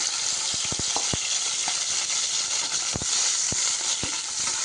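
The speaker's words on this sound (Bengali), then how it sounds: "দেখতে পাচ্ছেন চিংড়ি মাছটা ভাজা হচ্ছে, ভালো করে চিংড়ি মাছটাকে ভেজে নিব।" Prawns frying in a pan of oil with fried onions for a drumstick curry, a steady close sizzle broken by a few sharp crackles and pops, with no talking.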